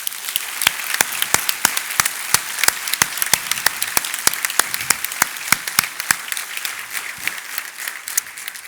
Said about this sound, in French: Je vous demanderai donc un tonnerre d'applaudissements pour toutes les équipes de TSM.